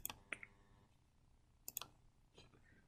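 A computer mouse gives a few quiet, sharp clicks, a pair near the start and another close pair later, in an otherwise hushed room.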